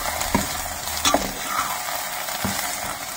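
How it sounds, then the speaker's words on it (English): Greens with lotus stem sizzling in a pan for Kashmiri nadru palak, a dense, even frying hiss with a few quick stirring scrapes, close and steady, no one speaking. "So I add it to the green and we let it cook."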